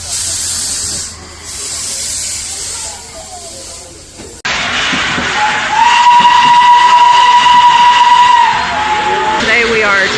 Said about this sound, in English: Today we are taking a trip on the Children's Railway